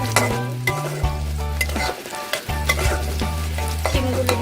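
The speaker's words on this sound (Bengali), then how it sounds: "আমি স্বাদ মতো লবণ দিয়ে দেবো। লবণ এবং হলুদ দিয়ে দিয়েছি।" Flat beans stir-fried with salt and turmeric in a pan, a steady close sizzle with repeated scraping stirs of a spatula, music-like tonal bands running underneath and no talking.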